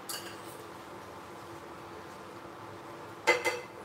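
A spoon clinks against a bowl while oil is added to chakli dough made from ready-made bhajani flour: a brief double clink near the end after a quiet, steady background.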